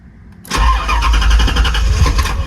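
A Corvette kept in a garage is cranked briefly and fires up, its engine catching after a short pause and settling into a loud, rough, close-up running note with no talk over it.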